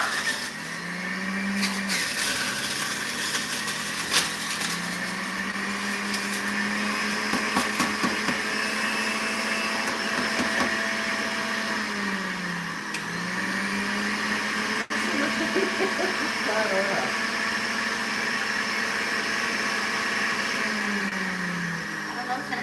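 A juicer runs on its juicer setting with a steady, loud motor whine and grinding throughout, its pitch dipping and recovering as it loads up, while people talk over it.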